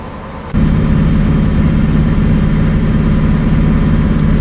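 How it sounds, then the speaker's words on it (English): DAF truck engine in Euro Truck Simulator 2 growling at speed, a loud low droning rumble that cuts in abruptly after a quieter moment and holds steady and close to the end. "It's quite a thing with these daffs when you reach speeds like this, that they sound really noisy and growling."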